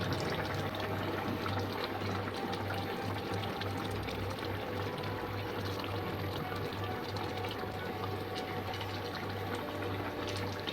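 Fish pieces dropped into a simmering curry broth with soft potatoes, a continuous bubbling, liquid wash under a low steady hum, without speech.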